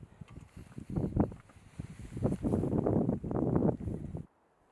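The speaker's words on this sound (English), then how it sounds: "Yeah, block the wind." Wind gusts over a mountain peak and buffets the microphone in rough, rising and falling bursts. It cuts off abruptly near the end.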